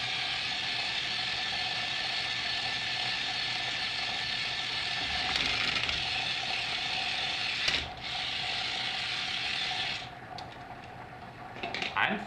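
A Hexbug Battlebots toy robot fitted with torque wheels whirs with a continuous close gear and ratchet buzz, changing pitch near the end.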